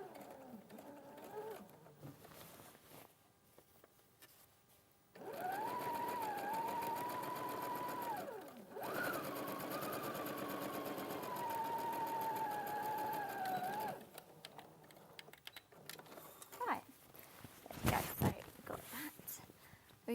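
Sewing machine stitching along a seam on a live sewing show, a steady mechanical whir running for about nine seconds with a brief pause, preceded and followed by quiet handling noises and soft movement.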